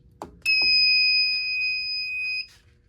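A fire alarm system sounds during a test, a loud continuous two-tone electronic alarm lasting about two seconds, framed by brief clicks and thumps before it starts and after it stops.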